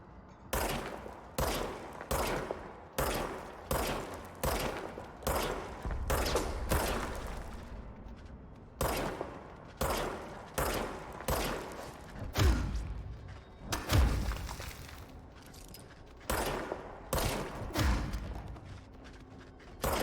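Gunfire from the service weapon in the video game Control comes in repeated loud bursts of sharp shots, some spaced evenly and others tighter, with heavy thuds and impacts between them and brief pauses.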